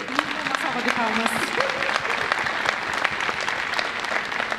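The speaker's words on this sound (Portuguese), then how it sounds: "Uma salva de palmas." A church congregation at a parents-and-children service gives a continuous burst of clapping, full and close, with a voice briefly audible underneath near the start.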